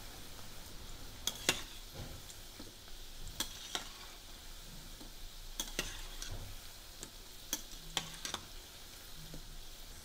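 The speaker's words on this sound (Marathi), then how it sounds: "भजी सोनेरी रंगावर कुरकुरीत होईपर्यंत तळून घेऊया." Moong dal bhaji deep-frying in hot oil, a soft continuous sizzle with sharp intermittent pops and ticks, close and fairly quiet, with no talking.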